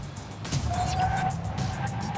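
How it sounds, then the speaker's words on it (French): A 2024 Lexus RX 500h hybrid with large front discs and calipers brakes hard from 100 km/h, giving a steady road rumble topped by a thin, sustained whine that holds through the stop. "Freinage maintenant, 100 km/h 0."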